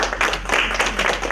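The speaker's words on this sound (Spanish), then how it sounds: "un aplauso para ella." Brief burst of audience applause after a talk at an environmental education session, a dense patter of many hands clapping together, close and steady for just over a second.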